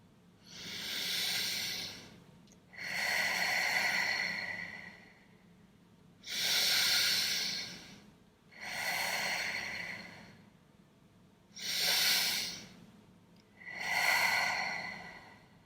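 Slow, deep meditation breathing, drawn in through the nose and let out through the mouth, in three full cycles with quiet pauses between each hissing inhale and exhale, close and alone.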